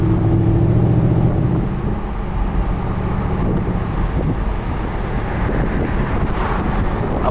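A 2012 Mercedes-Benz SLS AMG Roadster cruises with a low, steady engine rumble under heavy buffeting wind noise, continuous and close throughout.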